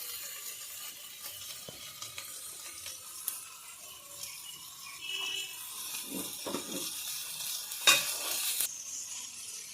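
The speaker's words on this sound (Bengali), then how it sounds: "মশলার সঙ্গে ভালোভাবে কষিয়ে নেব" Atta pasta being sautéed with spices in a pan gives a soft, steady sizzle with scraping stirs and clinks, quiet and close, with a sharper burst of frying near the end.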